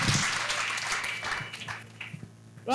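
A crowd at an outdoor church crusade in Bafoussam breaks into applause, a dense wash of clapping that fades over a few seconds before a voice rises at the end.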